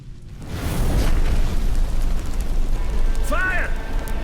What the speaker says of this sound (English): The flames! Douse the flames!